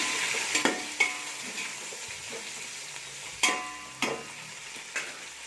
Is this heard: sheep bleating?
no